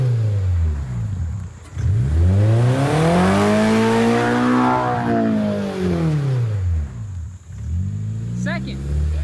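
A car at a drift competition revs hard through a long sweeping pass, its engine pitch climbing and then falling. The sound is loud and close, with a brief lull near the end and a short tire chirp at the finish.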